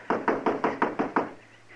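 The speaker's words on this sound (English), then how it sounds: "Go ahead and knock." Someone knocks on a door in a rural western setting, six firm, evenly spaced raps, close and loud with no voices.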